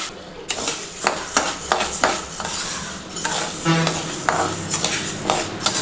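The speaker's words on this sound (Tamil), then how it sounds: "நல்லா இந்த அளவுக்கு வறுப்படணுங்க." White urad dal dry roasting in a pan for murukku: a close, continuous scraping and rattling as a ladle stirs the dry lentils against the metal, with light irregular clinks and a faint sizzle underneath.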